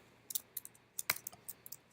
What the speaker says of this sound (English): I am just not into it tonight with the typing.